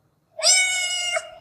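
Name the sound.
cat meowing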